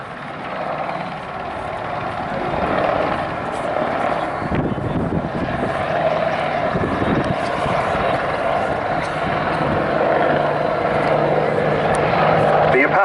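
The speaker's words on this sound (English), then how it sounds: "The Apache cruises at 140 miles per hour, but when responding to an urgent scenario, such as troops in contact, we can fly at 180 miles per hour" Apache helicopter flying at the Duxford summer air show, a sustained rotor and engine drone that grows louder toward the end, with a commentator's voice talking over it.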